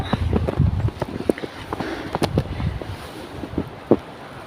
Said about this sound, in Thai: เสียงลมพัดแรงมากเลย